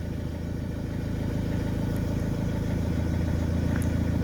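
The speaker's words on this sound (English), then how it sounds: "And now you can see that the vehicle is running." A Vauxhall Movano van engine with a no-start fault runs at idle, giving a steady, even low hum that holds at the same level throughout.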